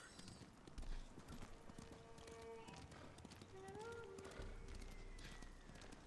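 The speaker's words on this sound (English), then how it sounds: "Where's my nameless horse?" Horse hooves clip-clop steadily in Ghost of Tsushima, mixed with background music and ambient effects, moderately loud throughout.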